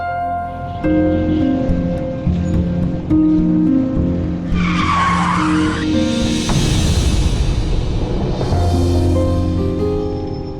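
A car brakes hard and skids on the road, tires squealing loudly for a few seconds amid engine noise and dramatic background music.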